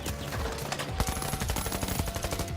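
A video game gun fires in a rapid, steady automatic burst, loud and close, each shot crisp and evenly spaced, with no voices.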